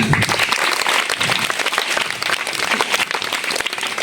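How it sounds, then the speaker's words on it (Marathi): An audience at a talk by Dr. Sukanya Pawale breaks into dense, sustained applause, many hands clapping loudly and evenly from start to finish. "पिताजींसाठी एकदा टाळ्या वाजून द्या"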